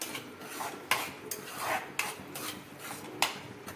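Turmeric and asafoetida being mixed in a cooking pan: quiet rasping, scraping strokes of a spoon against the pan, arriving in an uneven rhythm with a few sharper knocks, and no talking.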